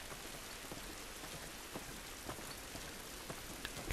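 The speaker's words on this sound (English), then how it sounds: "It's raining, can't do us any good." Steady rain pouring outdoors in the video game The Last of Us Remastered, a dense hiss of drops on surfaces with occasional louder splats, heard alone without voices.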